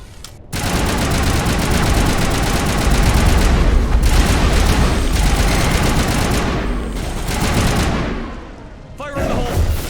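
A dense, loud stream of sci-fi weapon fire rattles on almost without a break through a Mass Effect battle, with booming impacts mixed in and voices shouting under the din.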